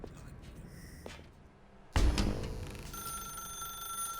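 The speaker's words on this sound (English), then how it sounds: "Now pick up the phone." An old telephone in The Stanley Parable bursts into ringing after a quiet, faintly tapping stretch, the bell tone sustained and bright through the rest of the clip, close and fairly loud.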